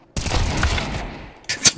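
A quick burst of video game gunfire, rapid shots rattling close together, followed by a sharp, bright crack.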